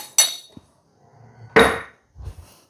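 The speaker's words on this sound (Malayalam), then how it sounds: "ഇതെല്ലാം കൂടി നന്നായിട്ടൊന്ന് മിക്സ് ചെയ്യാം നമുക്ക്" Spice paste of Kashmiri chili and salt being mixed in a metal bowl, heard as a few sharp scraping clinks of a spoon against metal with quiet gaps between.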